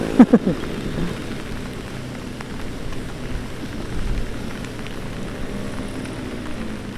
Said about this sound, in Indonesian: Ini hujannya tambah besar teman-teman di sini.